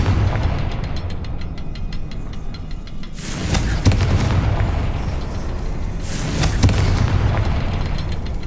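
Confringo fire spell from Hogwarts Legacy on Xbox Series X, heard as two loud booming bursts about three seconds apart, each with a sharp crackling onset and a rumbling tail over steady game ambience.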